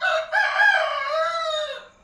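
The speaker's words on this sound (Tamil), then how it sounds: "அதிகாலையில் இந்த சேவல் கூவுற சத்தத்தை கேளுங்க" A rooster crows once at dawn, a loud, close, drawn-out call with rising and falling tones that fades out near the end, with no other sounds around it.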